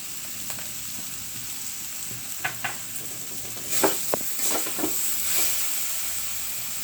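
Pointed gourd and ridge gourd curry sautés in a pan with a continuous soft sizzle, broken by several scraping stirs and taps that grow busier partway through.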